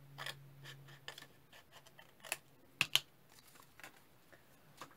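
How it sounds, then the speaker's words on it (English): Scissors cutting folded paper along a line for altered envelope crafting, with soft quiet snips and a few sharper clicks spread irregularly, close but faint, with no talking. "I'm just going to fold it and then I'm going to cut it on that line"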